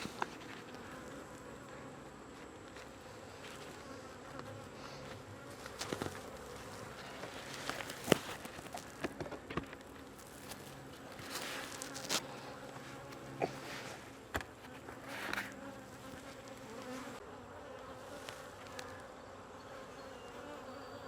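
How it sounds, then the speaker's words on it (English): Honeybees swarm in and out of a backyard hive, a steady buzzing drone with individual bees passing close and fading, continuous throughout with no talk. "Here are the girls, very busy, coming in and out of the hive."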